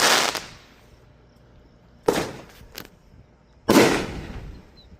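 A 250-ball firework cake goes off in sharp, loud bursts: one at the start, another near the middle and a third toward the end, each crackling briefly before fading into quieter outdoor ambience.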